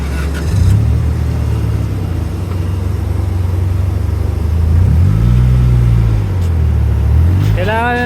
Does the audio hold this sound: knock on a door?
no